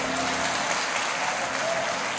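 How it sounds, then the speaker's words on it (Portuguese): A church congregation claps steadily in a dense, even burst of applause that lasts the whole moment, with faint crowd sound and nobody speaking over it. "Aplaude Jesus, mas espera aí que tem mais."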